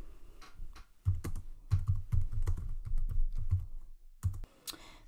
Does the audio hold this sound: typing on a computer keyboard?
yes